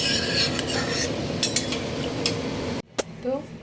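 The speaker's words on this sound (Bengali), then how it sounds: "ছানার বড়াটা মেশাবো।" Chhana balls stirred into a simmering kofta curry in a pot, with a steady scraping and clinking of a spoon against the vessel that stops abruptly near the end, followed by a couple of faint clinks.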